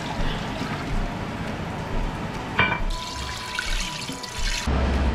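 Water pours from a container into a pot of pancit noodles on the stove, a steady splashing gush that changes pitch partway through, with no talking.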